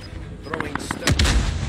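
Gunfire in the Call of Duty video game, a few sharp shots followed by heavier booming blasts over about two seconds, with a voice briefly heard alongside.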